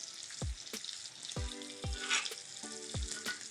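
Steak sizzles loudly in a pan as butter is spooned over it in basting, with a constant frying hiss broken by several sharp clinks of a spoon against the pan and no talking.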